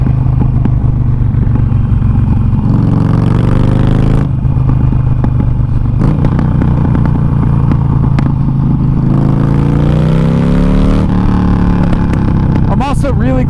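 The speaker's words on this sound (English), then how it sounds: "the noises and the smells and the vibrations you get out of this sort of ancient motor" A 2013 Harley-Davidson Forty Eight, an old-style air-cooled V-twin, rumbles loudly and close, its deep throbbing engine note shifting as the throttle rises and falls, with clattering mechanical noise mixed in and continuous wind rush.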